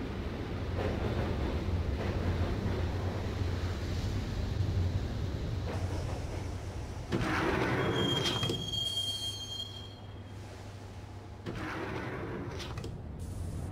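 Subway train ride in the video game Max Payne, a continuous loud rumble of wheels on rails with bursts of screeching wheel squeal and a brief high metallic whine partway through, no voices.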